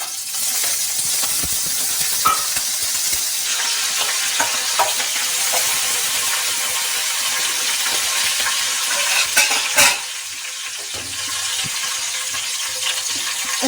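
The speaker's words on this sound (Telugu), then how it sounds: "ఆయిల్ వేసుకున్నాక మనము తాలింపు సరుకులు వేసుకున్నాము" Tempering spices fry in hot oil in a pan for a curry, giving a continuous bright sizzle and hiss, close up, with occasional clinks and stirring scrapes.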